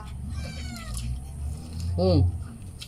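Cats meow at home, one clear rising-falling meow standing out near the end with fainter mews earlier, close by, amid people talking.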